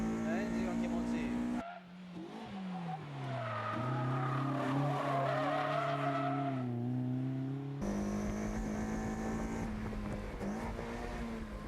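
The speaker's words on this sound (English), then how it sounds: "ロードスター、オーバーステア。" Roadster driven hard on a winding Japanese mountain pass, engine revving and dropping as it oversteers through corners, tires scrubbing, heard from inside the cabin with occupants talking over the drone.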